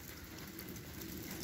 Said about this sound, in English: Now, here in East Georgia, it's raining.